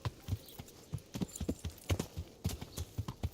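Horse hooves clip-clop in steady, rhythmic walking beats from the medieval game Kingdom Come: Deliverance, fairly close and clear with no talk over them.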